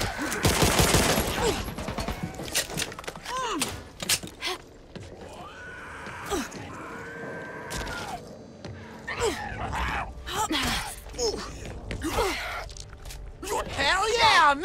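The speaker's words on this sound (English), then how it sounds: "Hell yeah, minigun." Rapid automatic gunfire from a minigun in the co-op zombie shooter Back 4 Blood, loud bursts at the start and scattered through, mixed with game effects and voices talking over the action.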